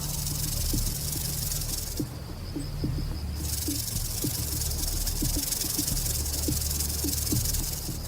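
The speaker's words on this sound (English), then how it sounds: "When threatened or preparing to strike, the snake vibrates its tail up to 50 times a second, creating its characteristic sound." A rattlesnake vibrates its tail rattle in a sustained, dry, buzzing hiss over a steady loud background, with faint low clicks scattered through it.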